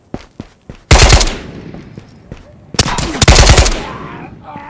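Gunshots in the VR shooter Ghosts of Tabor: a few sharp single shots, then two loud, close bursts of rapid automatic fire, each decaying with a reverberant tail.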